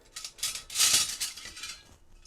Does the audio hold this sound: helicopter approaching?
no